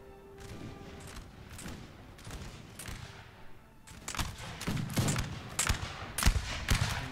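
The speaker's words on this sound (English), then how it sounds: "We've got a rolling fire going on as everyone comes in range of the enemy. And they one by one open fire." Musket volleys in Napoleon Total War, a rolling fire of scattered gunshots that starts out sparse and distant, then grows denser and louder as more units open up.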